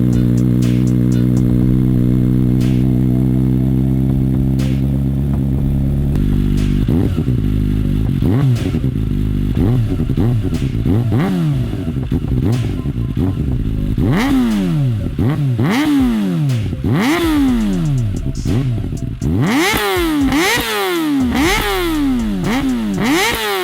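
A Kawasaki ZX-4R 400cc four-cylinder motorcycle engine climbs from a steady idle into repeated high, screaming rev sweeps that rise and fall in quick succession. It is loud and close, with no talking.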